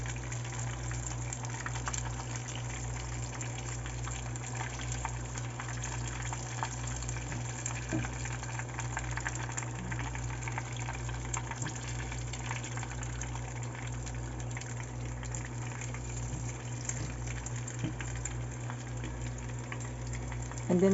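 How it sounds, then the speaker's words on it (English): Crab-shrimp rangoon fries in oil over moderate heat, a steady, even sizzle and bubbling over a constant low electrical hum, with no talk. "And then we're frying this in a moderate heat."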